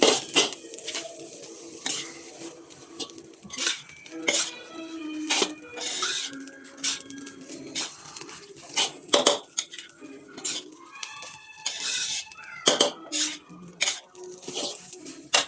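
A metal spatula scrapes and clatters against a pan as kangkong greens are stirred into spicy village-style fried rice, giving irregular clinks and scrapes at close range with quiet gaps between them.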